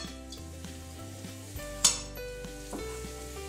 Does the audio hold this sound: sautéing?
yes